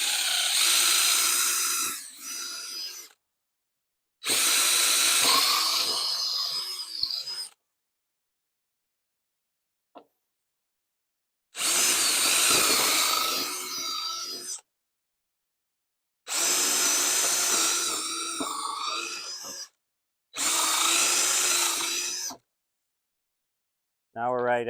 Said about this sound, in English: Now we'll drill these.